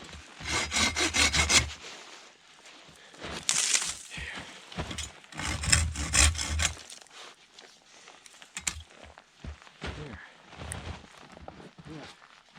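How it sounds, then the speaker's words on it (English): A Silky hand saw cuts through hemlock branches in snowy woods, with bursts of rhythmic rasping strokes, loud and close, broken by pauses and some rustling of branches. "I love these silky saws, man. They are just awesome."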